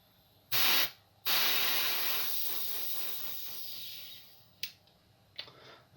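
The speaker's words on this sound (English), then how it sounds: "Also turn my airbrush on though" An airbrush sprays liquid chrome paint onto a G1 Optimus Prime model, giving a steady close hiss of airflow in two short bursts and then a long continuous spray that tapers off, with a few brief puffs at the end.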